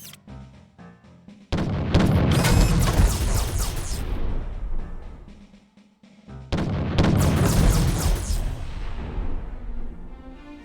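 Cannon fire in the Treasure Planet: Battle at Procyon video game, two heavy booming blasts a few seconds apart, each followed by a long rumbling decay, loud and close with no talk.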